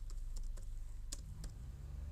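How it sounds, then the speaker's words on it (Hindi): Keys on a computer keyboard are pressed in a few faint, scattered taps over a low steady hum, heard close but quiet, with no voices. "और मैंने कीबोर्ड से एंटर प्रेस कर दिया"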